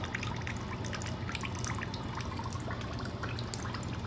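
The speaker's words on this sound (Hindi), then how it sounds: "टूट गया, पानी निकलने लग रहा है" Coconut water trickles and drips steadily from a cracked coconut, a continuous close-up liquid patter with scattered droplet taps throughout.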